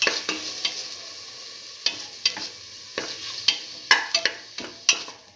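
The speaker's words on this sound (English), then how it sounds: "Keep on sauteing until the tomatoes and the rest of the ingredients are" Tomatoes and a spice mixture being sautéed in a pan for a pigeon pea stew, with irregular spoon scrapes and stirring clicks over a soft, faint sizzle.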